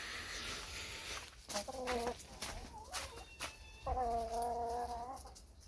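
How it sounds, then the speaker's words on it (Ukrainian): Several chickens cluck and chatter in short, drawn-out calls outdoors at eight in the evening, moderately close, over a soft hiss of open-air background noise. "Ось кури ще гуляють."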